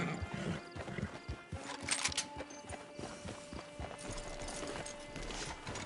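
Horse hooves clip-clop at a walking pace in the Red Dead Redemption Online video game, a quiet rhythmic patter of steps with faint ambient background and no speech.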